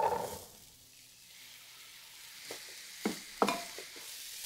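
Canned, drained pinto beans tipped into a hot pan make a faint sizzle with a few soft clatters and splats, close but quiet.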